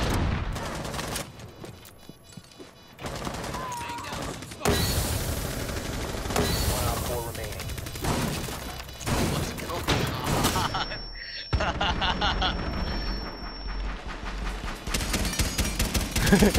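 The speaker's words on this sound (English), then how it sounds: "Suppressing fire!" Heavy, sustained gunfire in a shooter video game, loud bursts of rapid fire and booms in close succession with short breaks between volleys, while players talk over the action.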